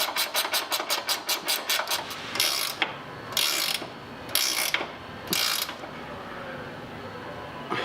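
A bolt is turned through the welded frame nut during a lower control arm install on a 2005-2014 Mustang GT, giving a quick run of close ratchet clicks followed by a few separate, slower ratcheting strokes.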